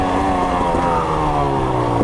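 A KTM 300 XC-W dirt bike engine runs close by in a continuous, buzzing drone with a rising rev. It is loud and steady for about two seconds, with no voices.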